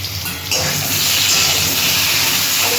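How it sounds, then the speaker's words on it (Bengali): Potatoes frying in hot oil in a pan while cooking a potato and pointed gourd mrigal fish curry, giving a steady, loud broadband sizzle that swells after a brief quieter start and continues unbroken throughout. "আলুটাও লাল লাল করে ভেজে নিচ্ছি।"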